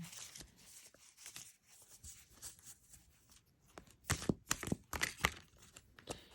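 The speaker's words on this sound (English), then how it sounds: "they shuffle good. Sorry you guys can't see it, but they shuffle nicely" World of Visions tarot cards being shuffled by hand, a run of soft papery riffles and crisp snapping bursts that grow louder and denser toward the end, close up with no talking.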